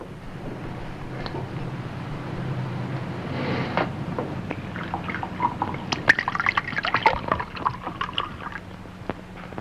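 Liquor poured into a glass, a soft trickling and dripping of liquid that builds toward the end, heard close and alone against faint background noise.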